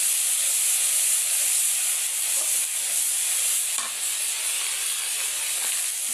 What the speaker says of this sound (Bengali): এইদিকে আমি মশলা কষাচ্ছি।